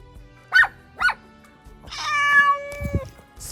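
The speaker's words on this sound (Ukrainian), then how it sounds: "А що це за кошеня пробігло?" A cat meows twice in short, clear calls, then lets out a longer, drawn-out meow, close and alone with no talk over it.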